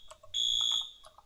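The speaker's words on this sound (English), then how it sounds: "Oh shoot, the fire alarm went off." A shrill electronic alarm tone blares steadily for about half a second, loud and piercing, with faint background noise before and after.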